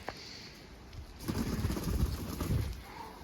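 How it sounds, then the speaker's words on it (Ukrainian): Pigeons coo softly in low, throaty murmurs, overlapping and fairly close, with faint rustling in the background. "Ось це всі мої голуби поки що"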